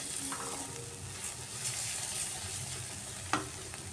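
Tomatoes and coriander powder masala stirred in a pan over a steady, close frying sizzle, with soft scraping throughout and one sharper knock near the end.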